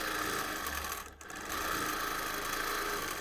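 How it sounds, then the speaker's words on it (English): A sewing machine free-motion quilting a T-shirt quilt at slow speed hums with a fast, even stitching rattle close by, briefly easing off for a moment midway before resuming steadily. "So to give my machine the best possible chance of forming pretty stitches, I'm slowing way down."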